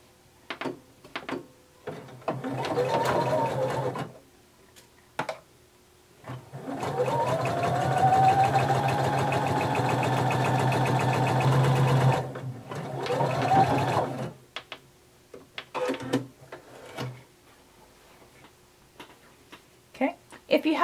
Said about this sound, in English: So you're going to sew together the center back.